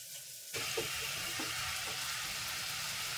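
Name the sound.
mushrooms frying in butter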